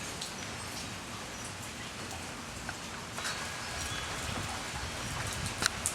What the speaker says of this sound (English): it's still raining and it's still raining pretty heavy